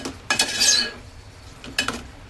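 A utensil scrapes and clinks against a metal pot while modak filling is mixed, giving two short bright metallic bursts with a quiet pause between them.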